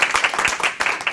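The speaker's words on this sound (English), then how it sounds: "Can we give them a round of applause?" Dense, steady applause from an audience at a Somali community gathering with a US ambassador, many hands clapping together briefly and fairly close.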